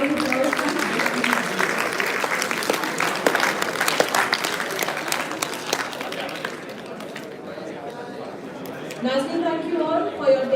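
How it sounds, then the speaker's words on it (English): An audience at an indoor seminar on the move from school to college life claps steadily for several seconds in a dense patter that gradually thins out, with voices coming through underneath and a speaker talking as the clapping fades. "A big round of applause, please."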